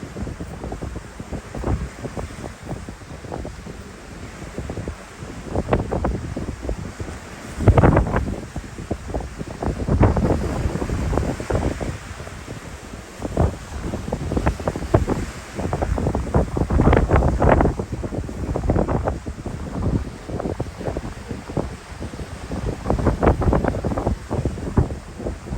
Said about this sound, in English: A bit windy this morning